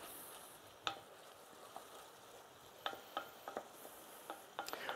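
Onions softening in a pan for risotto, a faint low sizzle with occasional light spoon taps and stirring clicks, quiet and close, no voices.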